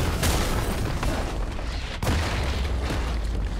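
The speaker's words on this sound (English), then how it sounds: "Blue team's turret has been destroyed." Turret destroyed in a League of Legends match, a heavy booming crash rolling out twice in quick succession over constant dense game noise, loud and close.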